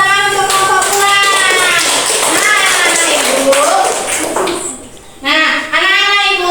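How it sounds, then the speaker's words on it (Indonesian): Children clapping for a classmates' group in a school classroom, loud, quick and ragged, mixed with kids' shouting and singing-like voices, pausing briefly before the voices return. "silakan tepuk tangan untuk kelompok bulan"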